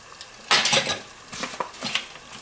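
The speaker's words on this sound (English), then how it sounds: "you can see adding it and stirring it as we go, that does help to keep the flour from clumping up" Flour being stirred into macaroni and cheese sauce in a pot, heard as a few clinking scrapes and taps of a utensil against the pot, moderately loud in short bursts with no talking.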